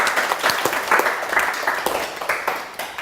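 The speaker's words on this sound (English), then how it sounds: "Can we have a round of applause for Lance?" An audience gives a round of applause for a speaker at a talk on understanding men, a steady wash of many hands clapping close by, holding strong for about three seconds before easing slightly.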